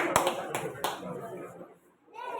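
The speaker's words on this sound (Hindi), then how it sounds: "एक जोरदार ताली" Audience applause at a school Independence Day teachers' celebration, a few sharp claps then fading, with a loudspeaker voice over it.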